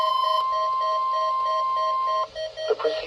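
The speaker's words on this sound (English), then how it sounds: "The proceeding was a test of the National Weather Service warning alarm tone." A National Weather Service warning alarm tone sounds during a required weekly test, a loud steady electronic tone held for about two seconds, then cut off and followed by brief broadcast noise.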